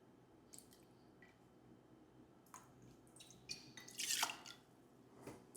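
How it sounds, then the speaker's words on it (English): Florida Caña rum poured into a glass for a Mai Tai, soft liquid trickles and drips building to a brief louder splash, close and quiet with no talking. "Let's go ahead and start pouring all the different ingredients into the glass."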